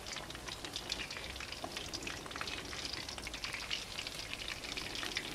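Fish fries in hot oil with a steady, dense crackling sizzle that continues evenly throughout, close and moderately loud, with no voices.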